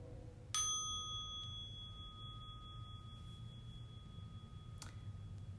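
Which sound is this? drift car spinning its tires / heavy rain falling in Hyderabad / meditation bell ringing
meditation bell ringing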